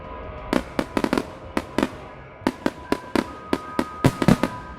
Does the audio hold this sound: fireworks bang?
yes